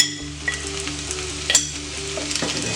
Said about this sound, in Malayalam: എന്നിട്ട് നന്നായിട്ടൊന്ന് ഇളക്കാം.